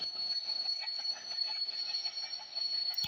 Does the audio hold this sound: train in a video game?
yes